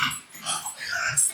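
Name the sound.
dogs growling while play-wrestling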